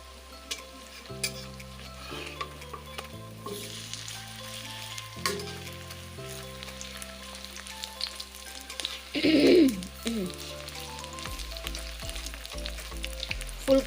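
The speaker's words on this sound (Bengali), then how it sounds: "এই যে ফুলকপির চপ ভেজে নিচ্ছি" Cauliflower chops fry in oil with a continuous soft sizzle and occasional bubbling bursts, set under steady background music with no talking.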